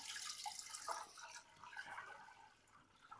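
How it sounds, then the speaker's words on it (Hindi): Water runs and splashes steadily into a metal pressure cooker, a continuous hissing pour with a few drips near the end. "अब इस प्रेशर कुकर में पानी डाल देना है"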